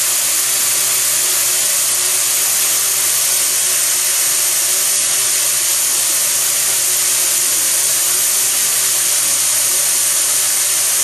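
A 3/8 drill bit bores into a part on a manual mill, giving a steady, loud, hissing whir with a constant machine hum underneath. It runs without a break and no one speaks.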